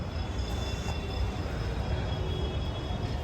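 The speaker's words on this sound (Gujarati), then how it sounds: "બાકી જો રેલવે સ્ટેશનની સવારની વાઇબ ચેક કરો." Morning ambience at a railway station: a steady, broad rumble of trains and platform activity that continues without a break at a fairly low level, with no clear voices standing out.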